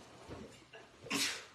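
After a little quiet breathing, one short, close sneeze bursts out sharply near the end.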